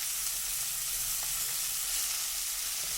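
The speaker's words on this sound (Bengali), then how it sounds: "ফোড়নটা হয়ে যাওয়ার পর আমি শাকটাকে দিয়ে দিলাম।" Leafy greens hiss and crackle in hot oil tempered with dried chilli, a loud, dense, continuous sizzle with occasional small pops and no talking.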